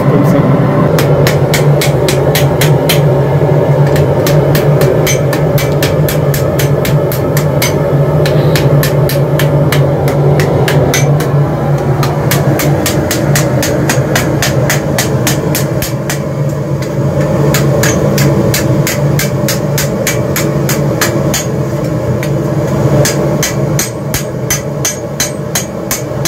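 A raising hammer beating red-hot orange steel for armour, a long run of rapid, loud, evenly spaced ringing strikes over a steady low workshop hum.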